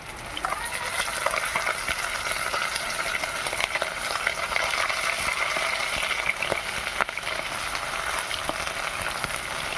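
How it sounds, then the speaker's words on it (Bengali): Fish sizzles in hot oil in a wok over a wood fire, producing a dense, continuous crackling hiss with scattered sharper pops, close and steady throughout. "কাঠের জলে মাছগুলো খুব সুন্দর ভাজা হচ্ছে"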